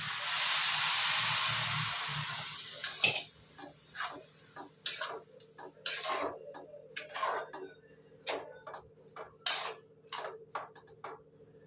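A loud hiss of water poured into a hot pan of cooking chickpea-leaf greens, fading out over a couple of seconds, followed by scattered sharp ticks and small clatters.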